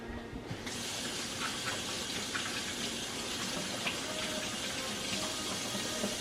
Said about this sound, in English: Now, wash my hand here.